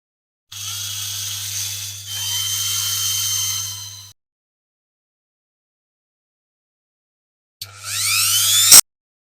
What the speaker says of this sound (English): let's get a drill on it and get it apart